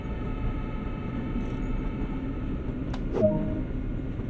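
Amtrak ACS-64 electric locomotive in Train Sim World, running as a steady low rumble and hum with a brief rising whine and clank near the end, no talk over it.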